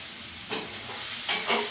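Tomatoes sautéing in a hot pan, a steady sizzle with two or three brief scraping stirs of a utensil, close up.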